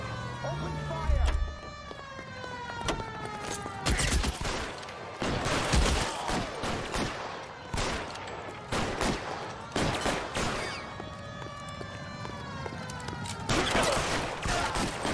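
Bursts of gunfire from a 1940s Los Angeles police shootout in L.A. Noire crack out repeatedly across the scene, loud and close, with sirens wailing and people talking between the shots.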